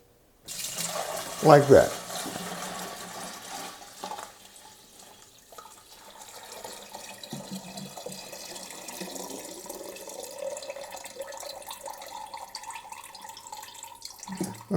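Homemade dandelion wine is poured over a desk in a thin, trickling stream that fades and picks up again over several seconds, with a brief spoken remark near the start.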